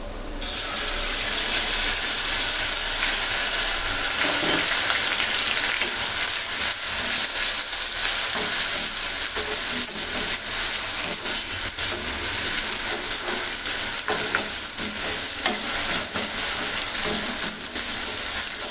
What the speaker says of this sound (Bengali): এখন এখানে দিয়ে দিব পেঁয়াজ বাটা।